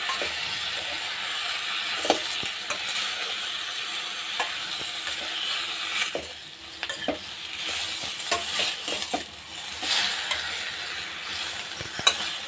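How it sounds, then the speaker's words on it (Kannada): Tomato chutney mixture frying in a pan gives off a steady hiss and sizzle, broken by scattered scraping stirs and light clinks of a spoon against metal, close and without talk. "ಚೆನ್ನಾಗಿ ಫ್ರೈ ಆಗಬೇಕು"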